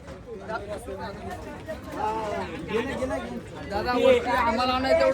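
A large crowd at a Palkhi procession produces a dense babble of many overlapping voices, close and steady, swelling slightly toward the end.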